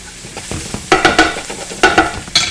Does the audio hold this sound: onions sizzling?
yes